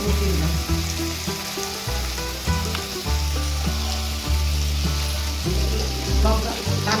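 Fish head and greens sautéing in a pan with yogurt, cumin paste, turmeric and red chilli powder, making a loud continuous sizzle and bubbling with occasional stirring, and a faint voice underneath.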